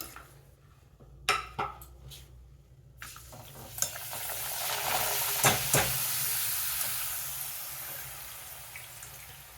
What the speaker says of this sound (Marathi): मी पुन्हा तुम्हाला एक पापड तळून दाखवते.